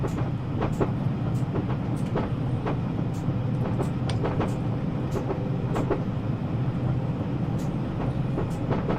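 A train rolls steadily along the rails between Manchester stations and Huddersfield, with a continuous low rumble, periodic clicks of wheels crossing rail joints and faint squeals, close and loud throughout.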